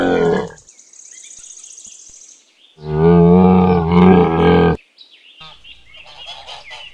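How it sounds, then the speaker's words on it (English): A camel lets out loud, drawn-out groaning roars in two main bursts, with a rough harmonic bellow in the middle and quieter grumbling between, alone without talk. "camel,"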